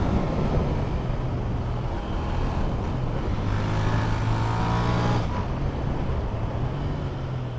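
A Royal Enfield Interceptor 650 ridden hard, its engine droning loud and steady with pitch rising through a strong rev build before settling back, heard up close from the rider's position.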